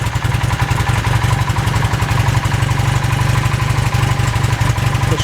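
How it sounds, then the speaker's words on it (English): A Honda CB400 motorcycle engine idles loud and close with a rapid, steady chugging beat, roughened by a slight misfire. "A little bit of misfiring."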